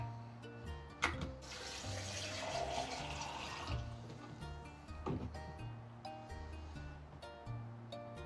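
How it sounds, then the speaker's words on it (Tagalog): Water poured into a jar of stones holding a pothos plant, a steady splashing pour for a couple of seconds amid soft knocks and clinks, with faint background tones. "And then, lalagyan na lang natin ng water."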